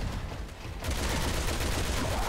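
A Gatling gun in Resident Evil 6 fires a dense, continuous rattling burst that kicks in abruptly and stays loud and close until the end.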